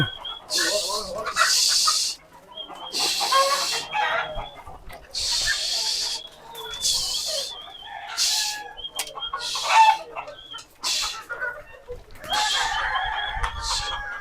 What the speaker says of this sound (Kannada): ಎಷ್ಟೊಂದು ಕೋಳಿ ಇದೆ ನೋಡ್ರಿ